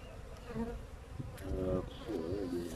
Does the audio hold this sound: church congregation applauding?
no